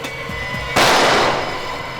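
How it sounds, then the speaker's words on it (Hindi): A single sharp gunshot bursts out during a TV crime drama scene set in a Haridwar jungle, loud and close, with a decaying crack and echo. "किसी ने मुझ पर गोली चलाई"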